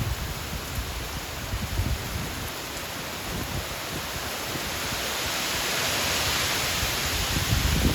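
A dense, steady roar of heavy rain from Hurricane Melissa in St. Elizabeth, Jamaica fills the air, constant and broadband, growing slightly louder toward the end with no voices.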